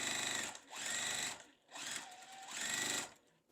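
Sewing machine stitching quilt block pieces for a windmill star sampler, two long steady motor runs separated by a short pause, close and loud with no talking.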